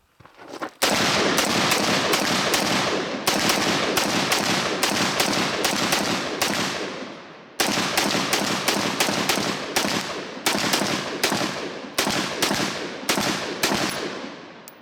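Karri's Guns Para Marauder AR pistol with a LOK Tactical Gen 3 folding stock fired outdoors in rapid close, loud single shots, roughly two dozen cracks in quick strings with short breaks between groups.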